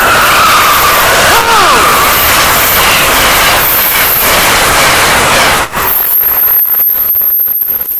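An Amtrak train passes a station platform at track level, a loud roaring rush of wheels and wind with a screeching squeal of wheels on rail early on, then a sudden drop to a hissing rattle as the cars keep going by.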